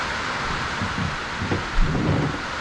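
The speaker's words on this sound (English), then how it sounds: "This rain is just so loud." Heavy rain pours steadily in a boat yard during a Crusader 454 engine install on a 35 ft Silverton, a dense hiss with low rumbling swells and a brief thump near the end.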